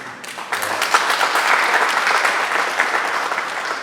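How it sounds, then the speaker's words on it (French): A room of guests and press applauds at a press conference launching an arts project, a sustained, even wash of clapping from many hands with no voices over it. "Et je voudrais que vous l'applaudissiez ici."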